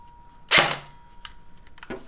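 An airsoft gun on a lithium-ion battery gives off a short, sharp burst close by, followed by a couple of fainter mechanical clicks with quiet gaps between them.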